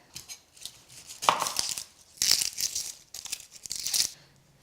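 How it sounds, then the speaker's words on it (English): Small pickling onions being peeled by hand for beef burgundy, with dry crackling and tearing of papery skins in short bursts, close and fairly quiet with brief pauses between. "with your small pickling onions, we're just going to peel them and leave them whole"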